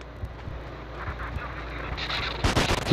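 Gunfire in the video game Manhunt, with a few short, sharp reports over a low background rumble and one louder burst near the end. There is no talk.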